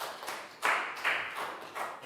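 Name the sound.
classroom applause for a student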